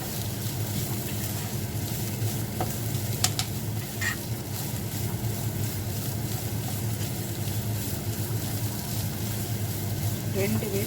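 Chickpeas for Jaffna-style sundal sizzle quietly in a frying pan while being stirred, making a soft, continuous crackle with occasional light scraping.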